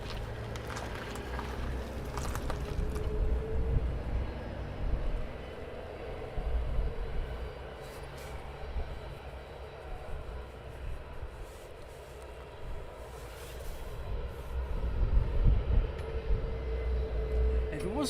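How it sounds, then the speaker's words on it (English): A Ryanair jet taxiing for departure at Luton Airport on a breezy early morning, its engine a low, steady rumble with swelling turbine whine, heard from a distance under wind and someone talking. "keep it on the LL while Ryanair taxis on for departure"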